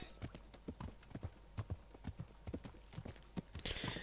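Horse hooves clip-clop in a steady walking rhythm in the video game Kingdom Come: Deliverance, close and distinct over faint ambient background.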